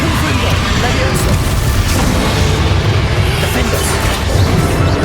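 Continuous booming blasts and crashing impacts from spellcasting combat in Hogwarts Legacy, including the Confringo blasting spell, loud and dense throughout with a voice calling out spell names over it.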